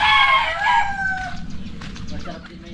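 A rooster crows loudly nearby, a drawn-out cry that trails off, followed by softer clucking.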